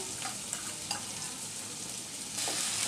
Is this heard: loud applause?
no